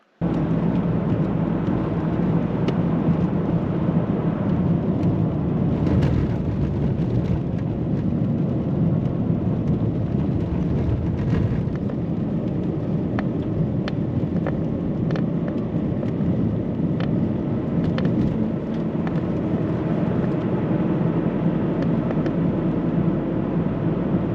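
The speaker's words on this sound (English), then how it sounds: "I did film myself driving from tarmac to snow and then from snow to tarmac again" A car drives steadily from tarmac onto snow and back onto tarmac, a continuous loud rumble of tyre and road noise with wind buffeting throughout and no talk.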